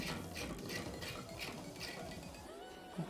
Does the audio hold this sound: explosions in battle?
no